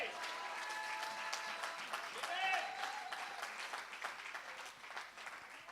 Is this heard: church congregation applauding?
yes